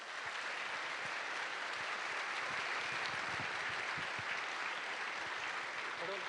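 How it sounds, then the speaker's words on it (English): Conference audience applauding steadily at a robotics event, a dense sustained wash of clapping from a large crowd throughout, fairly distant, with faint voices mixed in. "Please, again, another round of applause."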